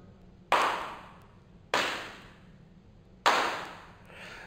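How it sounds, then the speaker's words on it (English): Three sharp hand claps ring out in a room treated with absorptive panels, spaced about a second or more apart, each one followed by a short reverberant tail that fades before the next. "Matt, could you just clap a couple of times?"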